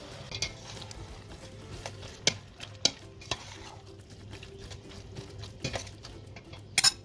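Mince for onion samosas cooking in a pan, a low sizzle beneath repeated sharp clinks and scrapes of a spoon mixing and smashing the meat, irregular taps scattered across the stretch with no talking.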